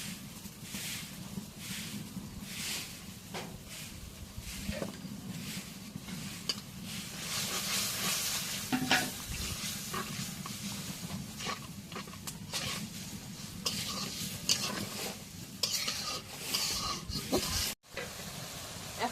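Turmeric, salt and spices sautéing in a pan for a village-style curry of local tangra fish with potato and eggplant, giving a steady close hiss and sizzle with occasional stirring scrapes throughout.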